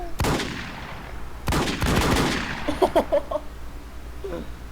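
Anaconda revolver fired in the game Infestation: a sharp shot at the start, another loud burst about a second and a half later with rattling echoes, then fainter clicks and tones trailing off.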